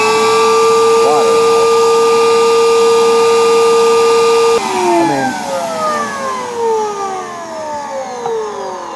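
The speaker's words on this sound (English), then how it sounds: "This one just has a little vacuum cleaner to suck out the dirt." A record cleaning machine's small vacuum motor sucks wash water off a vinyl record, a loud steady whine with a high tonal hum that drops in pitch and winds down midway, fading into a lower, uneven drone.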